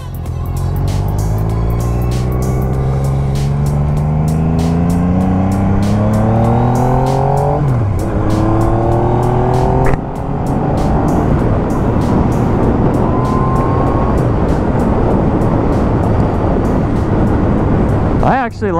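A motorcycle engine on a group cruise of seven bikes, running loud and steady close by with rising and falling pitch through gear changes, wind rush throughout, and a voice talking over it.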